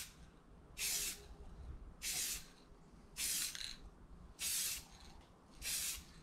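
A spray can lays light coats of paint onto a gun magazine in five separate hissing bursts, each lasting about half a second, evenly spaced with brief pauses, close and clear.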